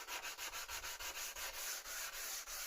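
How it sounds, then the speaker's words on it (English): Light, steady back-and-forth sanding strokes against an SME 2000 turntable plinth after paint stripping, evenly paced and close by, with no talking. "So you just go around and give it a light sanding"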